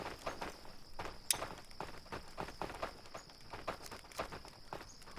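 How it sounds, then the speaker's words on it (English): Footsteps in the survival video game Aska fall in a steady series of soft, evenly spaced treads at low level, with a faint ambient hum behind them and no talk. "I can just hear these footsteps behind me."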